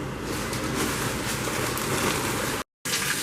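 Steady rain pours down outside a house, a dense continuous hiss and patter close by that fills the whole stretch apart from a brief dropout near the end.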